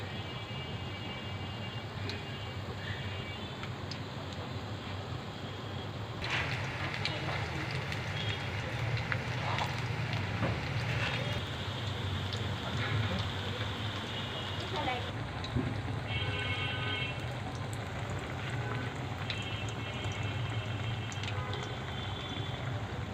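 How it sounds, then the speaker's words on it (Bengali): Banana flower pakoras crackle and sizzle steadily in hot oil, the frying growing louder and denser partway through as more pieces go in. "তেলটাকে গরম করে নিয়েছি। এখন একে একে পাকোড়াগুলো ছেড়ে দিব।"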